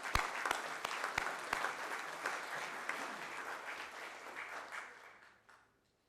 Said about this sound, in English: Please give them a round of applause, and give yourselves a round of applause